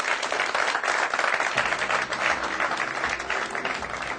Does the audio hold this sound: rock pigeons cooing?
no